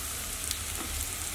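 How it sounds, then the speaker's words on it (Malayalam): Vegetables such as potato, carrot and beans frying in a pan for Kerala sambar, giving a steady, close sizzle and crackle with no talking. "അതിനുശേഷം നമുക്കിതിൽ വെജിറ്റബിൾസ് ഓരോന്നായിട്ട് ഇട്ട് കൊടുക്കാം."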